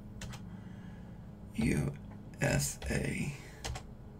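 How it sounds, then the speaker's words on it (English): Keys clacking on a computer keyboard in short bursts, typing a short word, with a person speaking briefly between and over the keystrokes at close range. "we're just gonna type in"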